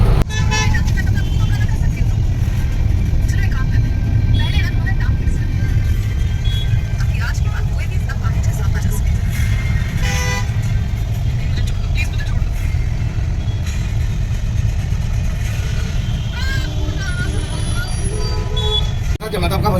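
Dense road traffic on a busy Indian city street, with cars, buses and trucks rumbling close by and repeated horn toots cutting through a steady engine roar; people talk over it throughout.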